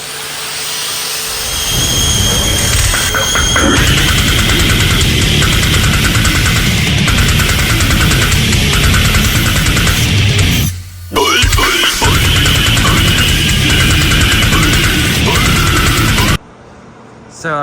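Power tool cutting through the steel tailgate of a 1988 Chevy K5 Blazer, a loud continuous grinding roar that runs nearly the whole time with a brief dip near the end before stopping.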